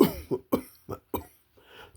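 A voice imitates a deep, wet cough: five rough, chesty bursts in a row, each short and separated by brief pauses, ending in a breathy exhale.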